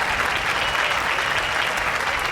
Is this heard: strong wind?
no